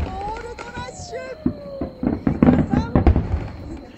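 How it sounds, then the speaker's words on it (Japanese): Gold fireworks launch in quick succession at the 47th Takasaki fireworks festival, with loud, near booms and crackles in an irregular burst and whistling trails over background crowd and commentary talk. "金の花火が どんどん打ち上がっています。"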